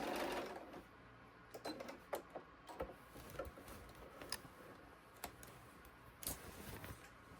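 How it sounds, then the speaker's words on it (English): A sewing machine runs in short quiet bursts with ticking needle strokes, back stitching at the end of a seam on a fabric boxed-bottom knitting bag, with no voices. "I like to give a nice little back stitch at the end."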